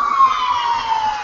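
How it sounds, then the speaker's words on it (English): Ambulance siren passing, a brief steady wail held at one pitch and fading slightly, moderately loud with no talk. "Ambulance."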